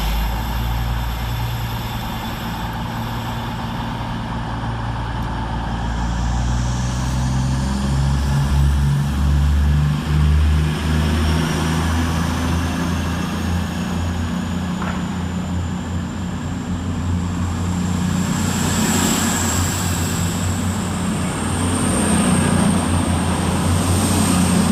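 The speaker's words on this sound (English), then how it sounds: "Next train out for departure is 220021 and 220014, working the 11:01 cross-country service from Bournemouth to Manchester Piccadilly" Two coupled cross-country diesel multiple units depart Macclesfield station on a Bournemouth to Manchester Piccadilly service, a steady loud engine drone with deep rumbling and rising whine lasting throughout, heard close on the platform.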